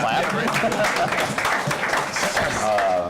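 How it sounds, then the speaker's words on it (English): An audience at a startup week event claps together, a thick wash of applause that holds its level while voices murmur and talk underneath. "I think we should clap."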